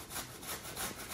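Half a red onion rubbed against a grater for coleslaw, a close, rhythmic rasping with several quick scraping strokes and no talking.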